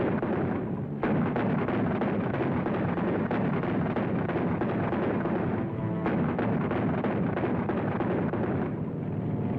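Rumbling bursts of World War II artillery fire at Arnhem roll on almost without pause, loud and dense, with a brief lull near the start before the barrage resumes.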